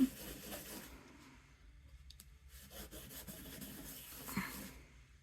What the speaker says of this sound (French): Ensuite, je vais nettoyer ma plaque de stamping.